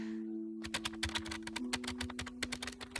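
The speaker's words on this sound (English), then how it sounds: "I just see myself pounding my keyboard" A computer keyboard is pounded in quick, uneven bursts of sharp close clacks over a faint steady hum, starting after a brief quiet moment; no voices.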